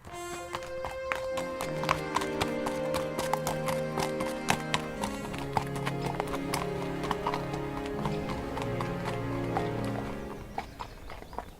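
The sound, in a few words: horses clip-clopping on arrival at castle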